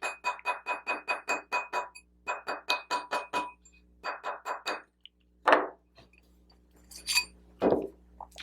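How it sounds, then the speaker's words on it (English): A nylon mallet taps a flat metal ring blank down a steel ring mandrel in quick, even bursts of sharp clinking strikes, close and crisp, followed by a few slower, heavier knocks. "I can also tap it down with my nylon mallet"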